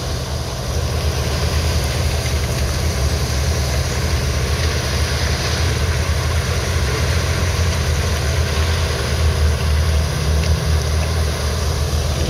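Volvo A40 articulated dump truck hauling wash at a gold mining operation on Rimu flats near Hokitika: a loud, continuous low diesel rumble that holds steady throughout, close by, with no voices.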